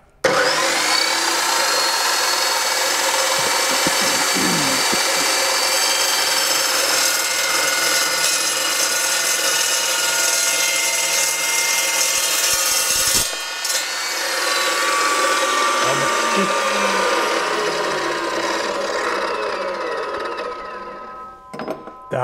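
A metal chop saw grinds and screeches loudly and continuously through angle iron for a long stretch, with a brief pause midway before cutting resumes and then winds down.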